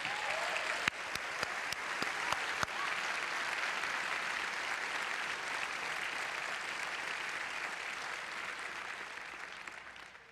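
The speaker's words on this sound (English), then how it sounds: "A big round of applause for our host schools." Large awards-ceremony audience at a national competition applauds the host schools, a broad sustained wash of clapping with a few sharp nearby claps early on, holding steady and fading slightly at the end.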